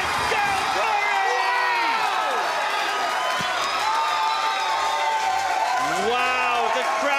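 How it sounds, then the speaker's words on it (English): A large crowd roars and cheers continuously at a robot combat event, loud and dense, with whoops and shouting rising over it and commentators talking through the noise. "The crowd is going nuts."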